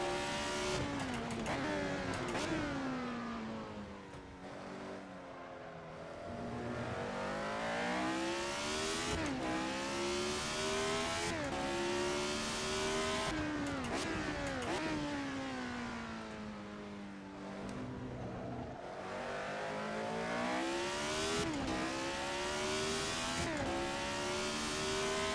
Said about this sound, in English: Yeah, this car's getting quick.